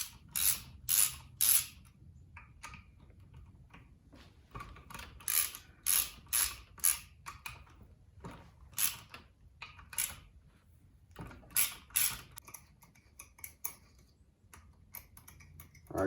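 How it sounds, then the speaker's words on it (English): A ratchet wrench loosens the six 8mm clutch pressure plate bolts on a 1998 Suzuki RM 250, giving quiet clicking ratchet runs in repeated short bursts with pauses between, close up and without talk. "we're going to remove the 6 8mm bolts holding the clutch pressure plate on"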